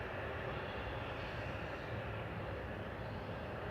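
Air Transat airliner landing at Manchester Airport with strong aerodynamic braking, a steady broadband roar of engines and rushing air heard from a distance, unbroken and without voices.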